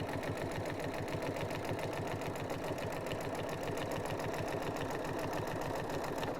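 A sewing machine stitches the binding onto a quilt, its motor running in a fast, even mechanical chatter of needle strokes, close and continuous throughout with no talking.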